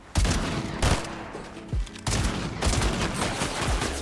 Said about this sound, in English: pretty good shotgun